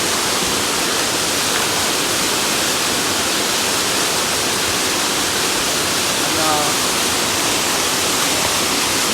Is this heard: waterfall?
yes